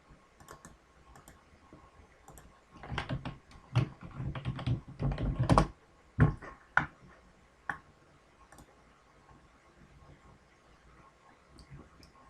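Computer keyboard typing a diagram name in a UML modelling program, a quiet burst of quick key clicks in the middle, with sparse single taps before and after.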